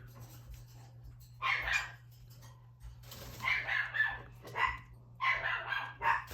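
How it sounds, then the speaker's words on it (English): A dog barks indoors in a series of short bursts, a couple early and then a rapid cluster of several more, at moderate distance over a steady low electrical hum. "Oh, that dog, she drives me crazy."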